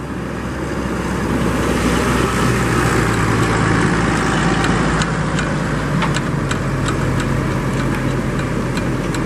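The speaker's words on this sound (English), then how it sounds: "That was Wiseman arriving here at Ingwe Beach with Free Spirit tractor" A loud, steady tractor engine drones close by on a beach at the St Lucia Estuary, with constant rumbling, a heavy motor running continuously without pause.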